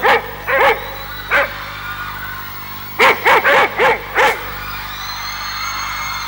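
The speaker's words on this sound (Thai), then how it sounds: "มีเสียงหมาเห่าต้อนรับเป็นเกลียวเลย" A dog barks in sharp, close bursts: a few scattered yips, then a quick run of five loud barks, with a faint whine trailing off at the end.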